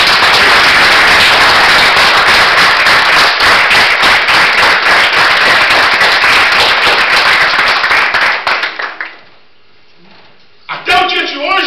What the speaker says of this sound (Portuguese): se você crê, aplauda o Senhor Jesus.